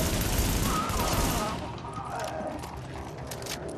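Assault rifle fire in the video game The Division: a dense, loud rattle of rapid shots that fades into a quieter spatter of distant gunfire, with no speech over it.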